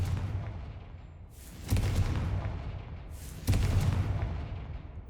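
Confringo fire spell blasts from the Hogwarts Legacy video game: two loud booming bursts a couple of seconds apart, each with a crackling rumbling tail, over a low ambient game hum.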